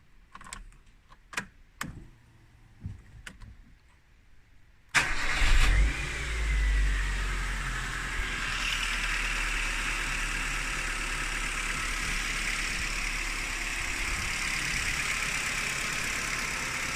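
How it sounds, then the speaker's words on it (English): A Ford Puma car's engine cranks on a loud starter and catches, then settles into a steady, rumbling idle, following a few seconds of sparse clicks and taps in a quiet space. "I'm going to start up the motor now and see how she sounds."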